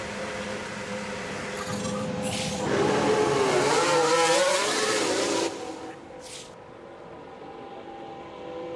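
A Lotus race car engine revs up loudly for a few seconds, its pitch rising and wavering, then drops back to a steady idle rumble.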